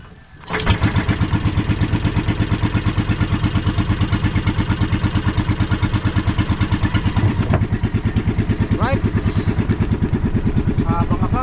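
A fishing boat's engine cranks and catches, then settles into a loud, steady chugging idle close by, with a few faint voices and clatter in the background.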